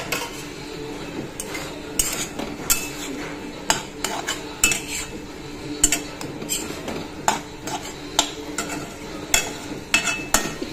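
A utensil stirs vegetable bhaji frying in a pan on a gas stove, with sharp metallic scrapes and clinks recurring roughly every second over a soft, steady sizzle.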